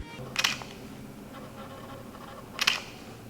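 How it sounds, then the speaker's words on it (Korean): Leica SL2 mirrorless camera shutter firing twice, about two seconds apart, each a crisp close mechanical click standing out against low room noise with no talk. "지금 들리셨는지 모르겠지만은 요 셔터음"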